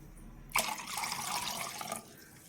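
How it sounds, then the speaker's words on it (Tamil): Water pours steadily into a pot holding ground ginger and coriander for ginger coffee, a close splashing gush lasting about a second and a half before cutting off. "இப்போ இதில் வந்து நம்ம 2 டம்ளர் தண்ணி சேர்த்துடலாம்."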